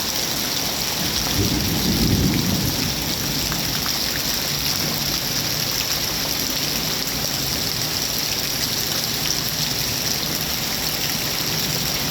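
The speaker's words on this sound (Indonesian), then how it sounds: "Kali ini hujannya disertai lumpur" Heavy rain pours steadily as a dense hiss, and a low rumble of thunder swells early on before the downpour continues alone.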